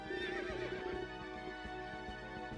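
A horse neighs in the video game Berwick Saga, a clear whinny over a looping game music track with soft, rhythmic hoof-like beats.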